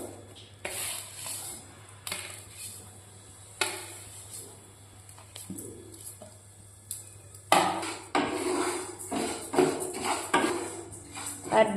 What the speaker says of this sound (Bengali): প্রথমে এই ডালগুলোকে ভাজা হবে।